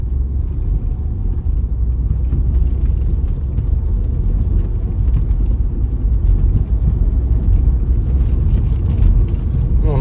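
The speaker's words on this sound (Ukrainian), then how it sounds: "Ну і двигунчик турбований, їде він весело." A turbocharged 2013 Peugeot 3008 engine with an Aisin automatic hums and rumbles continuously from inside the cabin while driving, with steady road noise underneath.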